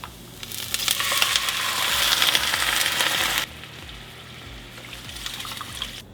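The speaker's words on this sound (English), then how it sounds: "We're at the point where we can start to add beef broth and let that cook down a bit." Beef broth poured into a pot for slow-cooked beef bourguignon, a steady splashing pour for about three seconds that stops abruptly, leaving a faint low hum.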